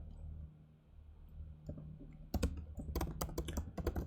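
Keys clatter on a computer keyboard in rapid irregular bursts of clicks that start after a quiet stretch, close and fairly soft.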